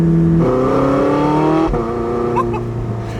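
Porsche 918 Spyder hypercar engine revs up to about 3,500 RPM, a loud, close, rising engine note with a brief throttle blip midway, then settling into a steady rumble.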